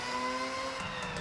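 Rotary-engined car in Forza Horizon 6 revving high, a steady buzzing engine drone with strong harmonic tones that hold and then shift slightly in pitch near the end, with no talk over it.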